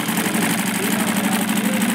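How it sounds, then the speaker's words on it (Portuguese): Sansei SA-D1541S triple-feed industrial sewing machine stitching, a steady fast mechanical hum with rhythmic needle chatter, close and continuous with no talking. "Vou costurar pra você ver."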